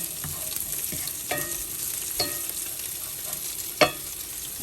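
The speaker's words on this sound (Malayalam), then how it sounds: "ഉലുവാപ്പൊടി ഒന്ന് വറുത്ത് കഴിയുമ്പോൾ നമുക്ക് ബാക്കിയുള്ള പൊടികൾ ഇട്ട് കൊടുക്കാം." Fenugreek powder frying in a pan while being stirred, a steady soft sizzle broken by a few sharp scrapes and clinks of the spoon, near and alone, with no voices.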